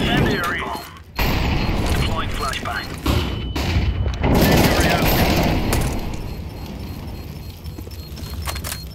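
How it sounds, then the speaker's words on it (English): A flashbang and an incendiary grenade go off in the video game Counter-Strike 2, with a sharp bang followed by a dense, roaring rush of fire and crackling amid ongoing combat noise. "Deploying flashbang. Incendiary out."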